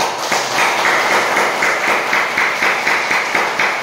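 A group in a yoga class claps in a fast, steady rhythm, about three claps a second, loud and close, with no talk over it.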